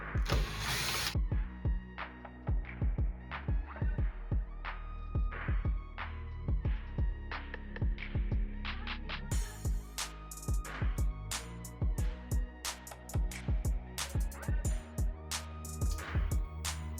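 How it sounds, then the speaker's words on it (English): Screws are taken out of a 2019 Infiniti Q50 interior door handle, with close, repeated ratcheting clicks and short mechanical taps that run steadily throughout. "there's 2 screws in this handle right here, which I'll take out"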